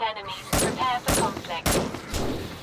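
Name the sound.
gunfire in the video game 7 Days to Die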